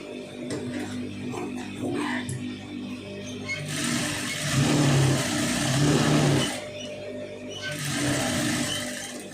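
Electric sewing machine stitching a lined blouse, running in bursts of steady mechanical whirring and clatter that speed up and slow down, close and fairly loud with no talking.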